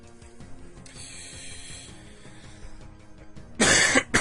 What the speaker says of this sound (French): j'ai encore un peu la toux